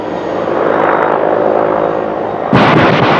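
A Cheyenne attack helicopter's loud, dense rotor and engine drone, broken near the end by a sudden harsh burst of rocket fire.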